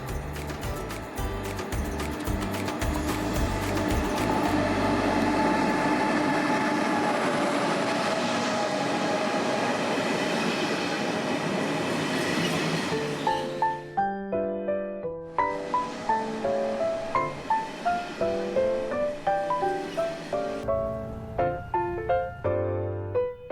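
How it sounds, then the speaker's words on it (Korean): A passenger train pulls into a station in South Korea's Honam plains region, a loud sustained rumble and rush of wagons that fades after about thirteen seconds, followed by quieter tonal chimes and mechanical clunks. "지금 열차가 오고 있습니다."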